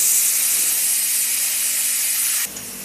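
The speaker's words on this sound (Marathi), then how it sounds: "आता आपण कुकरचं झाकण लावू आणि कुकरच्या शिट्ट्या करून घेऊ." A pressure cooker cooking urad dal lentils vents steam in a loud, continuous hiss that cuts down sharply just before the end.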